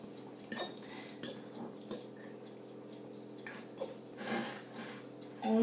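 A fork mashes cooked apple compote against the sides of a pan, giving a few sharp metallic clinks and soft scraping taps spaced over a low, quiet background.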